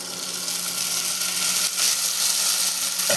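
Chopped eggplant and onion fry in a pan, giving a steady, close sizzle that hisses evenly throughout without any talking.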